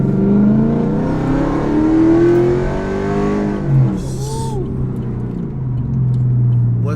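A Chevy SS engine droning and revving loudly, heard from inside the moving car, its pitch climbing and falling while people talk over it.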